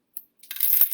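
Pennies drop with a brief metallic tick followed by a bright, jingling clatter of several coins landing together, close and fairly loud.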